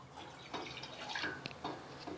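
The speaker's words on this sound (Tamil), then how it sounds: "அதில் 1/2 லிட்டர் தண்ணி ஊற்றிக்கிறேன்." Half a litre of water is poured into a cooking pot on a stove, giving a faint, close trickle with small splashes and drips over a couple of seconds.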